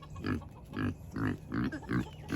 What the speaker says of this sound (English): About the noisiest pig I ever heard in my life.